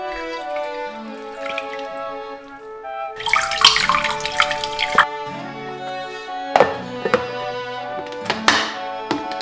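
Spinach rinsed in cold water in a home kitchen: splashing and dripping water with hollow thunks and clinks of a bowl or sink, a burst of running water midway, under faint tonal background music.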